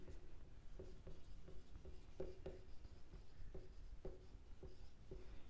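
Chalk or marker strokes on a classroom board during a class 9 algebra lesson on writing sets, a steady series of short tapping scrapes repeating about every half second, close and clear over low room hum.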